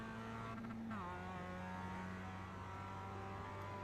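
A Mazda MX-5 Cup race car engine in iRacing at Lime Rock hums steadily at sustained revs, with a brief dip in pitch as it shifts near the start, continuous and fairly quiet, no talk.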